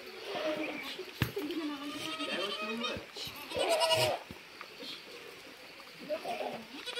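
Several goats bleat nearby in a rainy mountain village, overlapping cries rising and falling over steady background noise, with a person speaking at times.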